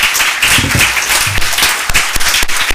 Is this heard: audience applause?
yes